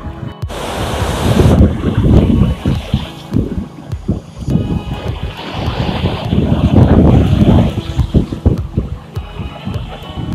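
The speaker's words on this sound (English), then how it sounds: "the sound of the water splashing against the rocks" Water splashes against rocks along the Toronto downtown waterfront, an irregular rush of surging and breaking water, loud and close, with wind buffeting the microphone.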